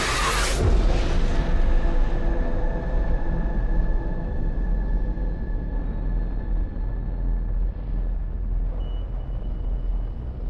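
A deep, rumbling boom breaks out suddenly, then rolls on as a long low roar with faint ringing tones fading over several seconds.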